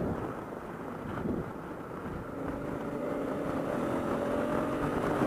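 A 2016 Honda Africa Twin motorcycle accelerates hard in third gear in sports mode, its engine note rising steadily beneath heavy rushing wind noise.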